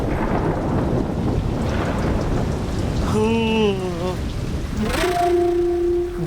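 Heavy rain pours down steadily and loudly through the whole stretch, with sliding tonal sounds rising over it partway through.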